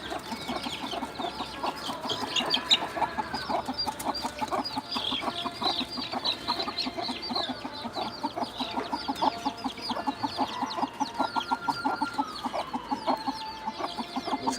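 Chickens on a goat farm, a busy flock clucking and chattering continuously at close range, with overlapping calls and occasional louder squawks over a steady background.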